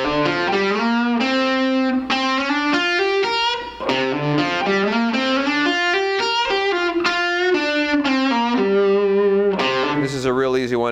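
Distorted electric guitar playing sliding licks through pentatonic scales, a continuous run of sustained, gliding notes with heavy effects, loud and alone with no talking.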